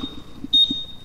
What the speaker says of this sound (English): what I brought is this alarm